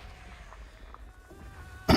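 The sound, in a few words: coughing of streamer with chronic bronchitis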